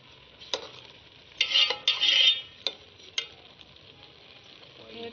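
Sugar going into a pot of cooked-down grated carrots for gajar ka halwa, with a few sharp scrapes and bursts of stirring over a soft sizzle, moderately close and with no talking.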